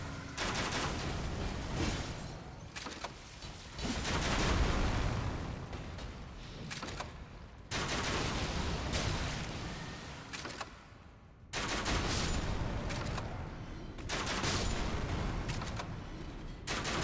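Crossbow bolts explode in a dark fantasy action game dungeon, with dense bursts of blasts and crackling impacts arriving in loud clustered volleys separated by short gaps.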